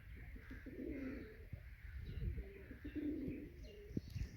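Pigeons coo in low repeated throaty bursts at a loft, close but soft, with light chirps and scattered rustles and taps around them.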